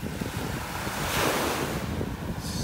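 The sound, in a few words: ocean waves on the beach at North Naples, Florida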